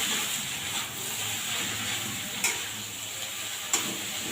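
Vegetables frying in a pan with turmeric powder and green chilies give a steady, close sizzle, with a few sharp clicks of the stirring spoon against the pan.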